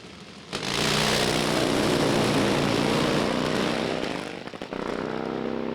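A Pro Fuel Harley-Davidson drag bike roars at full throttle during drag racing qualifying, a loud sustained engine blast that wavers and dips briefly near the end as it stutters, with no speech over it.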